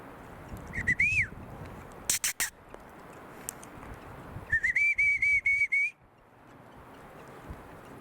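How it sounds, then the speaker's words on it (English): Chickadee calls in a forest, two thin whistled notes: a short rising one near the start and a longer, steady whistle a few seconds later, over faint background rustle and a few sharp clicks. "He's a chickadee."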